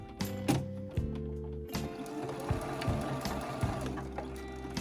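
Sewing machine stitching a pillow, running in several short bursts of rapid mechanical clatter separated by brief pauses, close by and without talk.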